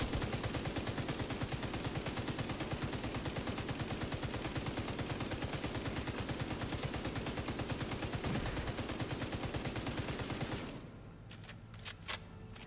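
Sustained rapid automatic gunfire aimed at a tank in The Division 2 rattles on without pause for about ten seconds, then cuts off, leaving quieter scattered game sounds.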